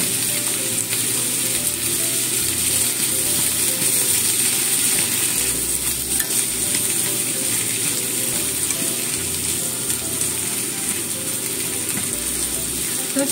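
Cabbage and ham stir-frying in a pan seasoned with soy sauce and sugar, a loud continuous sizzle with rattling, scraping stirring clatter and low background hum, no talking.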